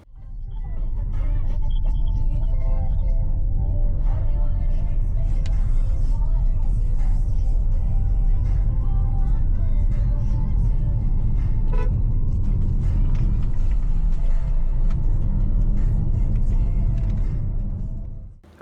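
Interior road noise from a Ford Territory Hybrid crossover on the move, a loud steady low rumble throughout with a few faint tonal sounds above it.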